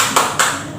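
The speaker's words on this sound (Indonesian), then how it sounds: "Jadi tepuk semangatnya, kalau Ibu bilang tepuk semangat," Two sharp, close hand claps about a quarter second apart from a teacher leading a spirited clapping routine in a classroom, with a faint room tail after each.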